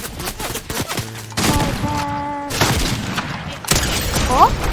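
Shotgun blasts in a shooter video game, a few sharp booms among layered game effects and tonal beeps, with people talking over the action.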